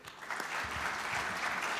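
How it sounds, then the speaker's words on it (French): Applause from an audience at an industry meeting panel rises quickly after a brief quiet start, then holds as a steady, moderately faint wash of clapping. "Et je vous demande de les applaudir."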